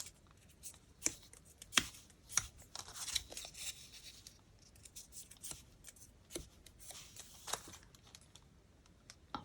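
Scissors cut a paper circle for index cards, giving quiet, close, irregular snips and crisp paper rustles with short gaps between cuts.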